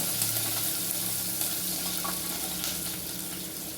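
Sliced onions sizzle in a pan while roasting until brown for aloo kudina batha, a steady close hiss that carries on throughout with no one speaking.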